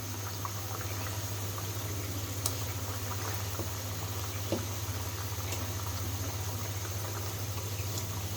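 Fried rupchanda (pomfret) fish pieces go one at a time into a potato curry simmering in a pot, giving a steady low bubbling hum with faint scattered clicks and a couple of soft taps throughout.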